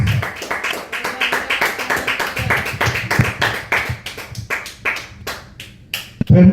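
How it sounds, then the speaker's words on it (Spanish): A church congregation claps in a burst of dense, rapid applause that is loud and near at first, then thins into scattered claps and trails off. "Y a su nombre, dale un aplauso a Cristo Jesús."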